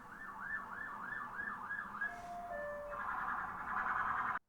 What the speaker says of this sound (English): I'm going to wait for the siren to go past.